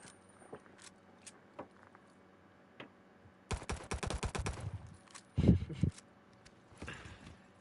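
Gunfire in a video game during a 2v2 wager match, a quick burst of rapid shots in the middle, then a heavier blast, with scattered soft clicks before and after.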